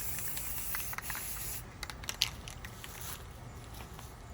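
A spray can hisses as camouflage paint goes onto a rifle from a few inches away, a soft, steady spray broken by short bursts and faint clicks, close and quiet.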